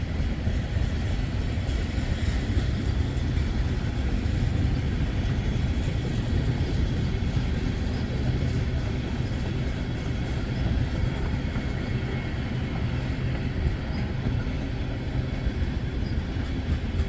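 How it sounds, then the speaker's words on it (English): A Wheeling & Lake Erie freight train runs on a hill just above, a loud continuous rumble and rail roar that holds steady from start to finish with no talk. "The train's up on the hill up here."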